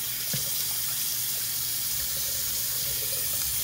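Running water while a puppy is bathed, a steady hissing stream from a tap pouring continuously at close range, with small splashes and no pauses.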